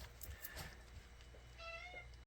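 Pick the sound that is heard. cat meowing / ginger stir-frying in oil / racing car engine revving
cat meowing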